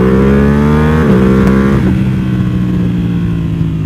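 Ducati V2 Bayliss motorcycle fitted with an Akrapovic full exhaust revs loudly close by, its engine note climbing and then falling back to a steady rumbling idle.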